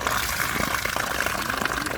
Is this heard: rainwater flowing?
yes